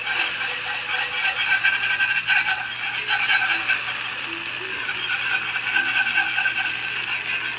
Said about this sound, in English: I'm going to add this slurry to the melted butter now.